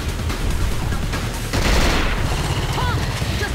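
Gunfire from the video game Cold Fear fills the mix. Dense, loud shots rattle in quick succession over a constant rumble of game noise, swelling midway through.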